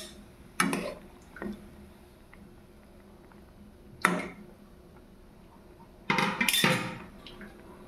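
Fish pieces go into a boiling, spiced pot, making a few separate metallic clatters and splashy knocks spread over several seconds, with quiet gaps and a longer clattering burst near the end.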